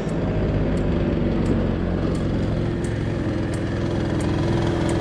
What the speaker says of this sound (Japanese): 止めてアイドリングしてる状態の音とか